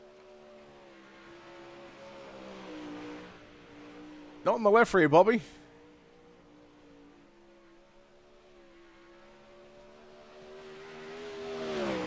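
Race car number 51 in an iRacing sprint car event, a steady engine drone with a faint rise and fall, swelling louder at the end, while a commentator talks over it.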